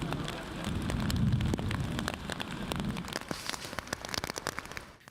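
Brief, intense rain from a storm front with thunderstorm activity, heard as a dense, steady hiss of rainfall with scattered sharp drop impacts. It sounds close and moderately loud.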